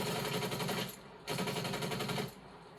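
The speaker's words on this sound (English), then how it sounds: "next up on our list of guns, we got the QBZ-83" QBZ-83 rifle from Call of Duty Cold War fired in two sustained automatic bursts, each lasting about a second, with a short pause between and a brief tail after, loud and close.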